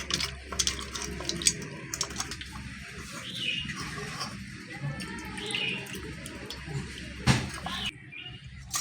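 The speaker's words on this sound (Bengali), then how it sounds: "এর মধ্যে অল্প করে জল মিশিয়ে দেবো।" Water runs from a tap and splashes into a bowl of soaked tamarind, a steady trickle close by with light clatter. Birds chirp faintly in the background.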